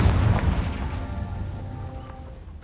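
A Confringo fire spell explodes in Hogwarts Legacy with a deep, loud boom at the start, then a rumbling, crackling tail that slowly fades away, heard alone with no voices.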